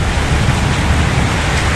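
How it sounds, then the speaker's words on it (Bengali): Heavy rain from a Kalbaishakhi nor'wester pours down in a dense, steady roar, with strong wind and no voices. "দেখছেন কি পরিমাণে পানি পড়তেছে, বৃষ্টি হইতাছে, বোঝাই যাইতাছে"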